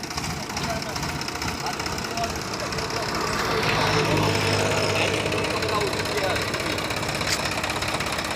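A tractor engine runs at a steady low rumble throughout on the Jaska–Sundhiya road, with people talking over it and the engine note thickening briefly midway.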